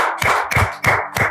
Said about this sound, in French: C'est beau, est-ce qu'on peut les applaudir?